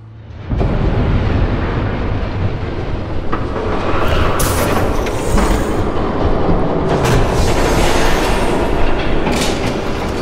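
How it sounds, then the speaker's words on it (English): A train rumbles loudly and steadily for the whole stretch in the Batman: The Telltale Series video game, with clattering wheels and rail noise and no voices over it. "There's a train coming!"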